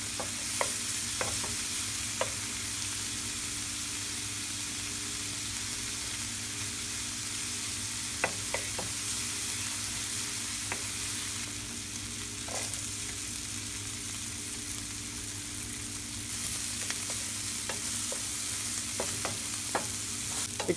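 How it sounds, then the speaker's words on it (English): Chopped bacon, garlic and onion fry in olive oil over medium-high heat. A steady close sizzle runs throughout, broken by occasional light taps and scrapes of a utensil against the pan. "first add some olive oil to a pan, heat on medium high, and sequentially add chopped bacon"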